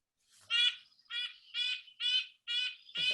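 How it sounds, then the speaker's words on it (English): A red-breasted nuthatch calls in a backyard, a series of six short, nasal, evenly spaced honking notes, clear and fairly close with quiet gaps between them. "This is a red-breasted nuthatch."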